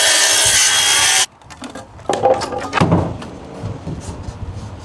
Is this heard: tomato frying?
no